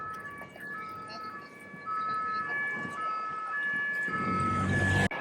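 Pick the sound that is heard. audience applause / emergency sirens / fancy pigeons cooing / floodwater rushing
emergency sirens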